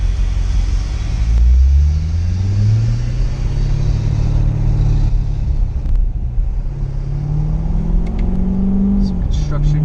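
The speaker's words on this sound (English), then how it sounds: "I'll leave the window down. Maybe we'll hear some engine noise." Chevrolet Corvette C7 Z51 in track mode with dual-mode exhaust pulling on a highway with the window down, a loud rumbling engine drone whose pitch rises and falls steadily, with wind noise throughout.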